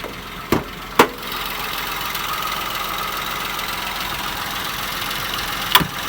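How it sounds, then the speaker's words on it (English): A 2008 Toyota Yaris with a 1-litre petrol engine idles steadily nearby, a constant even hum with a few sharp clicks or knocks near the start and one near the end, no voices. "That's just the normal engine noise."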